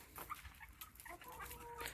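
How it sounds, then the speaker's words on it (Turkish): A dog in a rural village farmyard with chickens gives faint, brief whimpering sounds in the distance over low background noise. "Köpeğimiz de burada."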